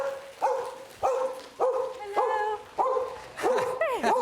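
A dog named Freya gives a run of short barks and yips on a lecture stage, about seven evenly spaced calls ending in a rising whimper, close and fairly quiet.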